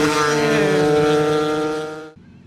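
A Honda PCX scooter engine accelerates hard on a night mountain road, a loud, steady rising whine with strong harmonics that holds for about two seconds and then cuts off abruptly, leaving quiet road noise.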